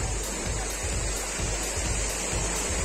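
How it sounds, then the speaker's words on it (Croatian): Roaring waterfall about twenty metres high, heard from just above it, a loud steady rushing wash of water that fills everything, no voices. "Tačno iznad vodopada."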